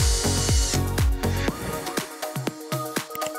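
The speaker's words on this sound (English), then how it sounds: "The barbed wire effect is created by twisting two wires together in a drill like" A drill twisting two wires together to form model barbed wire for HO scale chain link fencing, with repeated short whirring bursts that rise and fall in pitch, close and fairly loud, with no talk.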